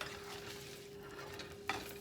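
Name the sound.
sausage warming and sizzling in a pan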